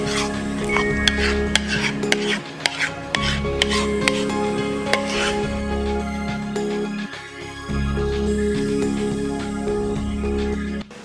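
Cream cheese filling for a strawberry cheesecake is poured and spread over the prepared base, with steady scraping and rubbing of a utensil against a bowl or pan and occasional sharp clinks.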